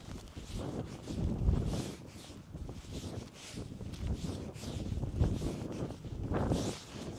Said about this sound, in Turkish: Burada nasıl rüzgar oluyordur ya.